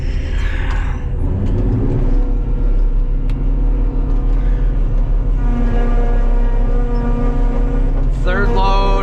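A crop-chopping harvester runs loud and steady in a field, its deep engine drone overlaid with rising whining harmonics as the machinery works, and a brief higher whine near the end.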